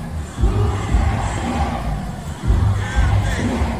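A crowd at a gathering in Laguna shouts and clamors in a dense, steady roar, with louder surges of voices rising near the start and again past the middle.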